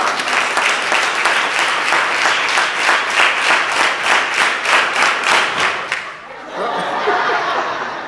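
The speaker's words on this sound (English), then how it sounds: "let me hear you clap 18 times" Audience clapping in rhythmic unison, a steady run of about eighteen loud, evenly spaced claps from a crowd, ending abruptly before scattered chatter and a short burst of looser applause.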